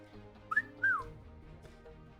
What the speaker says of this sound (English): This would be an appropriate time to hit that Tiago whistle